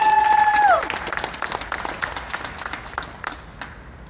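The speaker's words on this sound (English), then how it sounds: "bring up to the microphone with a nice round of applause" Audience applause at a women's boxing pre-fight press conference in Detroit, a dense patter of clapping that rises in after a fading tone and carries on steadily, moderately loud and fairly close.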